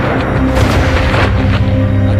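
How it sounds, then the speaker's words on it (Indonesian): A loud, booming gunshot rings out in a hunting-guide film scene, with a dense, rumbling low-end blast that fills the whole brief moment. "Akan tetapi, si Madek menembak lagi."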